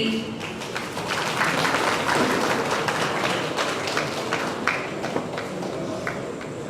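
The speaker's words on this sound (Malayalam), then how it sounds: "കയ്യടി." Audience at a movie event in Kerala clapping as a guest is welcomed onto the stage, a dense, sustained round of applause that gradually thins out.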